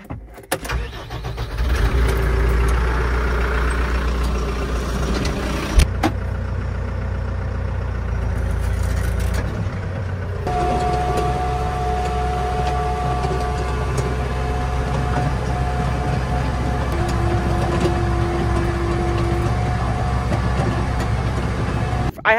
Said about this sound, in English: We got hooked up to the new tractor.